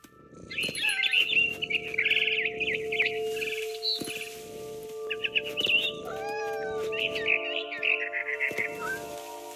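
A cat meows and caterwauls in What Remains of Edith Finch while a barn swallow chirps in quick bursts nearby, over a steady ambient game hum.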